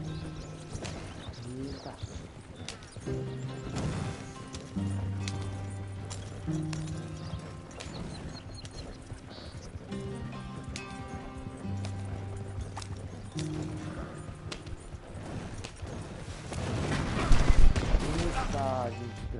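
A horse gallops in Red Dead Redemption 2, with rhythmic hoofbeats running under game music and loud action sounds that swell near the end. Someone talks briefly over it.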